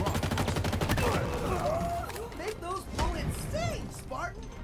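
Halo Infinite multiplayer match with dense, rapid shotgun blasts in a burst early on, then scattered shots as players talk over the gunfire.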